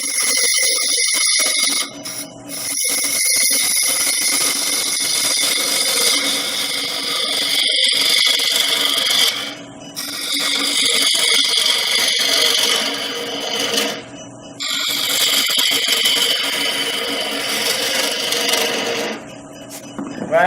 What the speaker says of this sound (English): I want to switch to a square scraper.